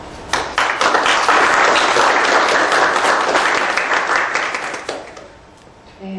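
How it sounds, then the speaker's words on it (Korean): Lecture-hall audience at an economic policy lecture bursts into dense, loud applause right at the start, sustained for about five seconds before thinning out and fading, with a brief voice at the very end. "다시 한번 큰 박수 부탁드리겠습니다"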